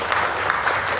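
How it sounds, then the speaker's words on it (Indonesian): A classroom of students claps for themselves, a short dense burst of many hands applauding together. "Tepuk tangan buat kalian sendiri."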